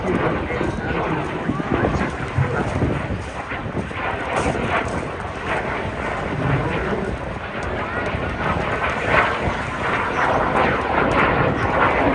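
Airplane flying at the Bray air show in Ireland, a sustained engine drone carried over wind noise outdoors, while a commentator talks steadily over it throughout.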